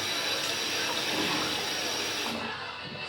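A shaving razor gets rinsed under a running tap, a close, steady gush of water hissing continuously for a few seconds before easing off near the end.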